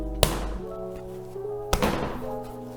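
Kouign amann dough slammed onto a table twice, each a loud, close, heavy thunk about a second and a half apart, with quiet background tone in between.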